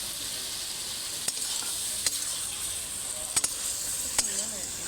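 Rui fish head cooking in a pan, a steady hissing sizzle with several sharp utensil taps against the pan, and a faint voice in the background.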